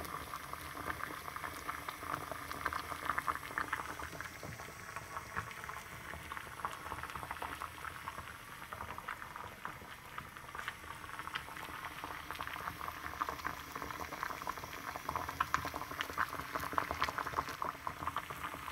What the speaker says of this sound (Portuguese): Meu ovinho cozinhando